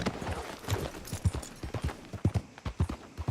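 Horse hooves clip-clop in a steady trotting rhythm in Red Dead Redemption II, close and moderately loud, with occasional softer scuffs between the beats.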